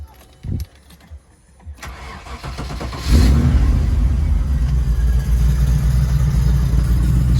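A Land Rover Defender with a 4.6 V8 engine and a custom stainless steel exhaust cranks and fires up after a few quiet clicks and rattles, then settles into a loud, steady, deep idle close by.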